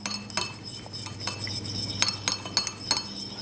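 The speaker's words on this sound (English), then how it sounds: "So the olive oil, the lemon zest, and the lemon juice, mix those together" A utensil whisks olive oil, lemon zest and lemon juice together for a marinade in a glass bowl, giving a run of sharp, close clinks and taps at an irregular rhythm.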